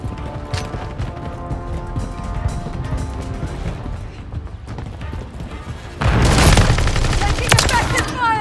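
Multiplayer Domination gunfire in Call of Duty: Modern Warfare 3: steady rattling rifle and machine-gun fire with mechanical clatter, swelling into a much louder, denser barrage partway through.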